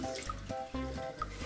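Water running and splashing while a dog's bowl is rinsed clean, a short close burst of trickling and dripping with no voices.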